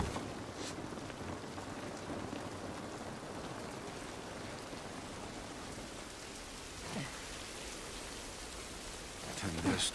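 Steady outdoor rain patters all around in a dense, hissing wash, with a few louder drops or bumps near the end.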